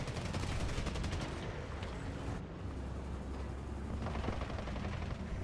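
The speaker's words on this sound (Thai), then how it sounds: "อะไรทำไมยิงเราเรื่อยๆ" Enemy tank gunfire in War Thunder, around a Char FCM 2C heavy tank: rapid, fairly faint bursts of shots and rumbling engine noise continuing throughout, with no talk.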